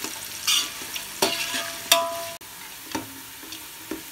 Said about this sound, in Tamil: பொன்னிறமாக வர வரைக்கும் நம்ம வதக்கிட்டே இருக்கணும்